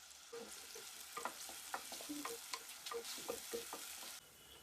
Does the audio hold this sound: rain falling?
no